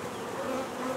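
Honey bees from a newly installed bee package buzz steadily and close, a dense continuous hum with no voices over it.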